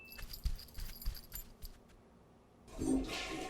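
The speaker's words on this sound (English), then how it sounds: "He clearly just flushed the toilet" A cartoon toilet flushes in a Rick and Morty bathroom scene: a burst of rushing, swirling water after a few clicks and knocks, fairly close and with no talking.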